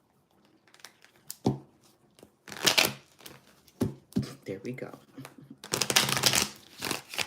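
A tarot card deck is shuffled by hand in several bursts of riffling and shuffling, crisp and close, separated by short pauses, with a person speaking briefly between them.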